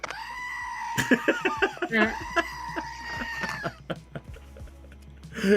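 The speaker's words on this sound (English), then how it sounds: "you get an angry goat and then a thank you" Bleating animal calls from an angry goat sound effect, several sharp, harsh cries in a row with crowing-like tones, loud and close, no talk over them.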